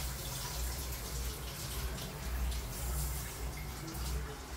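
Water runs steadily from a tap while rice is washed, a constant soft hiss and splash with a low rumble beneath, moderately close and with no voices.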